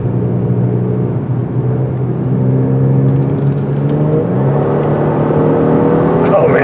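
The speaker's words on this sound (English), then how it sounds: "when it's put in sport mode, the exhaust gets louder" A 2024 Genesis G70 3.3T in sport mode accelerates with a steady, rising engine drone and exhaust hum heard from inside the car, building gradually with faint road noise toward the end.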